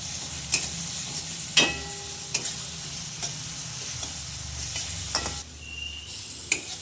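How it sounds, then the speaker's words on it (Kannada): Ginger garlic paste fries in a pan with a steady sizzle, punctuated by repeated sharp spatula taps and scrapes against the metal at irregular intervals. "ಜಿಂಜರ್ ಗಾರ್ಲಿಕ್ ಪೇಸ್ಟು ಅಲ್ಲಿವರೆಗೂ ಫ್ರೈ ಮಾಡ್ಕೊಳ್ಳೋಣ ಚೆನ್ನಾಗಿ"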